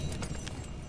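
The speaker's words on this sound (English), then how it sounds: "let me take care of my horse real quick." Horse hooves in the video game Red Dead Redemption II, a brief run of rhythmic clip-clop beats under a low background hum, fairly quiet and lasting under a second.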